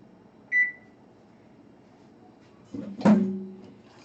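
A kitchen oven gives a short electronic beep, then after a faint background hum a door or latch clunk comes with a brief tonal chirp, all moderately quiet in a home baking setting.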